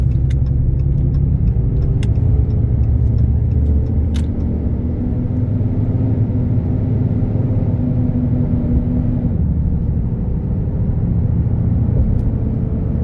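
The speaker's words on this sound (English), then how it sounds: "Truck sounds really good." A 2022 RAM 2500 Limited heavy-duty pickup driving, its engine droning low and steady from inside the cab, the pitch easing as it slows under braking, with a few light clicks and no talk.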